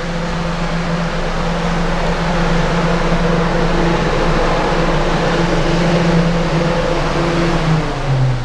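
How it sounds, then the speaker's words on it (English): Big cooling fan blows air at a Vauxhall Vivaro/Opel 2.0 van strapped by its back axle on a dyno, a loud, steady broadband whoosh with a faint underlying hum and no talk. "that's the big fan you can hear that's blowing air in"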